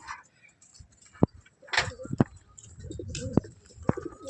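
Pet birds, probably pigeons or doves, call and coo in loud bursts at close range, with scattered knocks and handling noises and a person speaking intermittently.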